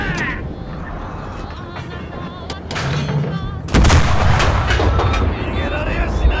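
A tank's main gun fires in the World War II game Enlisted, one heavy, loud blast that breaks through scattered battlefield gunfire and leaves a lingering rumble.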